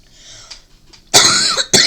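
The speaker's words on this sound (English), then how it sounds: "Sorry about the coughing." Two bursts of harsh, close coughing, the second shorter, after a quiet stretch with faint room noise; no talking.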